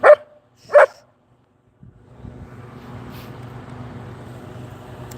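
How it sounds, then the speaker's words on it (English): A dog gives two sharp, close barks in quick succession, then falls quiet before steady low background noise rises, with no talking. "Stop the barking, you."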